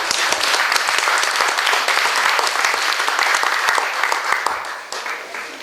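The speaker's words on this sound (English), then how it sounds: "Please a big round of applause." A banquet audience at KJamson Luggage's 30th anniversary celebration in Toronto gives the company founder a big round of applause, loud and dense from many hands, holding steady before easing off at the end.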